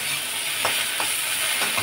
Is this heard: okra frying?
yes